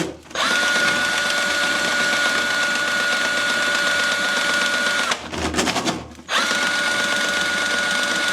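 Drain auger spinning inside a clogged sink drain, a steady loud motorized whir with a tonal hum that runs continuously, briefly dropping out and changing near the middle before resuming.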